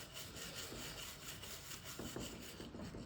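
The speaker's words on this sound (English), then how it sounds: "Just keep polishing it." Stained glass being polished by hand with a cloth, heard as a quiet, continuous rhythmic rubbing and scrubbing close up, with a few soft knocks toward the end and no voices.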